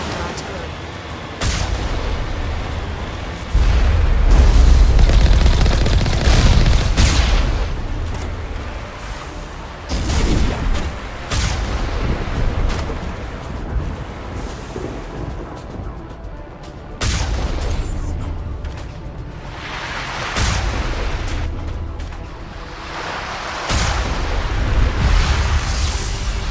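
In the game Mass Effect, artillery fire and explosions go off in heavy, booming bursts with brief lulls in between, some blasts close and loud, others muffled and more distant.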